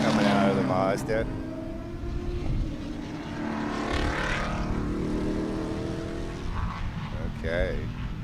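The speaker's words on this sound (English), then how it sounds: "it sounds like the microphones are picking up the sound of the cars pretty good" Race cars at Sebring during the Turkey Trot roar past one after another, engine pitch sweeping up and down as they go by at moderate distance, with commentators talking over the noise.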